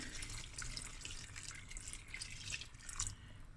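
Water splashes and trickles steadily into a pot at close range, with a running, bubbling wash of sound and no talking.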